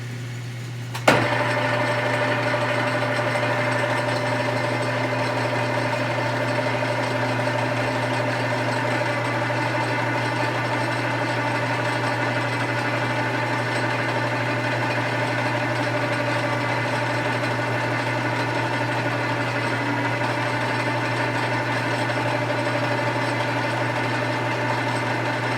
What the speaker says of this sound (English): Just put the lathe on.